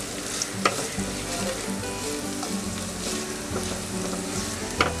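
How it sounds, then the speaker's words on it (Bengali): Chopped onions fry in a pan for chilli paneer, giving a steady close sizzle with occasional soft clinks of stirring, no voices. "এই পেঁয়াজটা আমি একটু ভেজে নেব"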